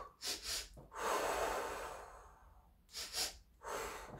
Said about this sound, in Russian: носом вы вдыхаете. 2 дыхания носом, 3 выдох.